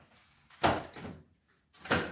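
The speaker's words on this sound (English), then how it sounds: "I thought a cat was trying to open the door." A door is worked open indoors, giving two separate bursts of clunking and rattling with a quiet gap between them, moderately close.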